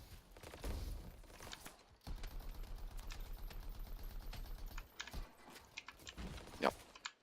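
Rapid mechanical bursts of plasma cannon fire in the video game Anthem rattle in a fast rhythmic stream, with sharper zaps and bangs scattered around it.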